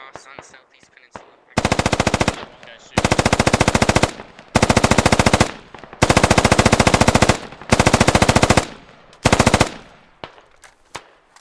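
Loud, close machine-gun fire from a military shooter game against Russian forces: about six long automatic bursts separated by short pauses, with a few lighter pops and faint background noise between them.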